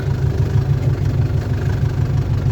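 A heavy tractor engine idles nearby, stuck in a swamp, with a deep, steady pulsing throb, loud and continuous with no voices.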